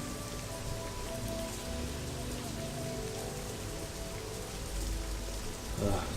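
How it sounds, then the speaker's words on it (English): Steady rain pattering in Morrowind, a dense, even hiss of drops on surfaces that holds level throughout, with a faint voice underneath. "It's always raining."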